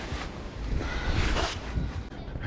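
Wind buffets the microphone at Xinghai Square beach in Dalian, with waves surging and washing in close by in uneven gusts, and no talk.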